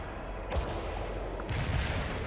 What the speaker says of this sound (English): The barrage is on the way.